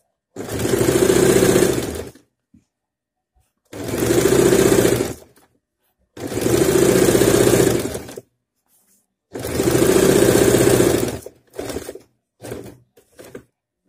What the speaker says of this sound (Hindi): तो चलिए अब मशीन में जाके इस नेक को अटैच कर लेते हैं।